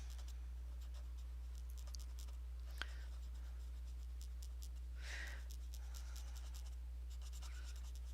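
A small nib scratches pastel across paper while working on a spring-flower clock picture, giving a faint, continuous dry scraping with a few brief louder strokes, close-up and without talk.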